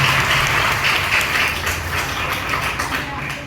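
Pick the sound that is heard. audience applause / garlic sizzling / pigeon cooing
audience applause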